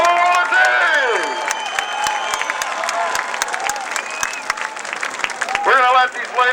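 A crowd at a speedway event for cancer survivors claps and cheers loudly and continuously, with scattered whoops and shouts rising over dense applause.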